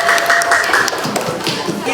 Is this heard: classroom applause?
yes